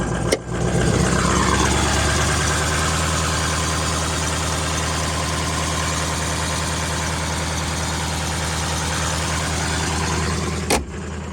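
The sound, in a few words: 2003 Ford F450 box truck diesel engine idling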